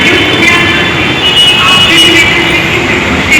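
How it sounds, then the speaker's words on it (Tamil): A metro train pulls away from a station platform with a loud, steady rumble and rush close by, the roar holding even throughout. "ஒரு ட்ரெயின் போயிடுச்சு, அதான் இங்கே எம்டி ஆகுது பிளாட்ஃபார்ம்."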